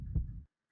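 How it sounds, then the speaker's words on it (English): A heartbeat effect from the video game Resident Evil Outbreak: a single deep, thudding low beat with a soft hum, brief and close, with no talking. "Still got that heartbeat."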